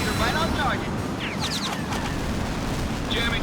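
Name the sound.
multiple explosions in video game Tom Clancy's H.A.W.X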